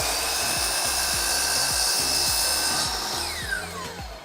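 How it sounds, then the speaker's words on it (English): A table saw blade lightly trims the end of a guitar neck held flat against the fence, a steady loud motor whine with a repeating rhythmic thump as the wood feeds, alone without talk. "Bring the blade down and just lightly trim."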